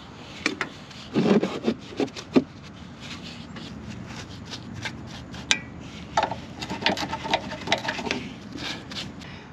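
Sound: brushing Fluid Film onto rusty truck underside

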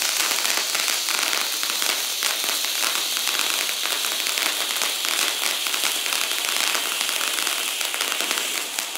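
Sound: Unicorn Fountain firework from Fox Fireworks

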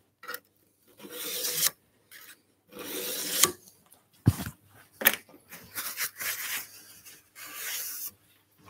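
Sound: filing garden tool edge during sharpening

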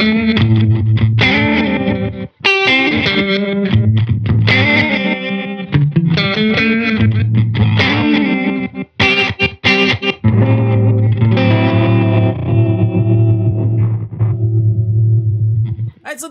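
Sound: Hologram Chroma Console effects pedal, Interference effect

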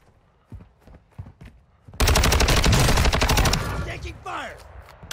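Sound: gunfire in the video game Warzone 2

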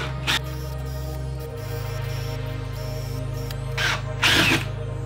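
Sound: hole saw drilling through door

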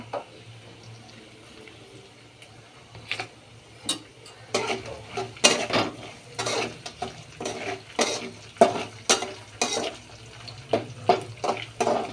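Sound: curry leaves sizzling in hot oil for tempering

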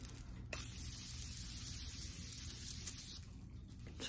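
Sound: Morphe Sweet Peach setting spray being sprayed

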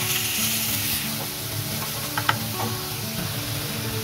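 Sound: grated onion sizzling in hot oil

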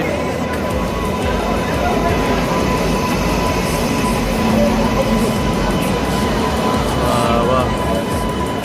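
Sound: train standing at Malda station

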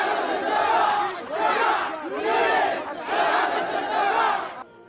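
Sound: crowd of protesters chanting slogans

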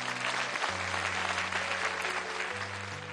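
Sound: audience applause

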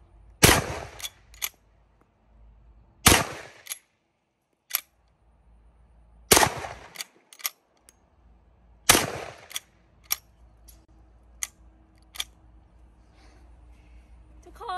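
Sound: gunshots from a gun in an armor vs fridge test

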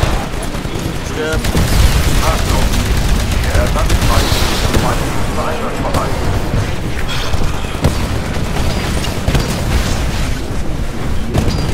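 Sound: gunfire and explosions from the video game Titanfall

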